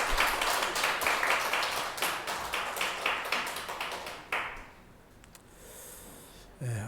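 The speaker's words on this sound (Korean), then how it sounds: "우리 하나님께 영광의 박수 올려드리겠습니다." A church congregation claps together in sustained, dense applause that gradually thins and fades, leaving a quiet pause before a brief final sound.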